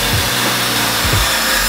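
A BMW N54 engine idling rough, a loud continuous roar with two heavy low pops standing out as it sputters, close to the car.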